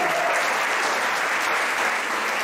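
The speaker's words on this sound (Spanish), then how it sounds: "un aplauso para Keila Moreno" Steady, dense applause from a church congregation during a Sunday sermon, many hands clapping together without a break at a close, even loudness.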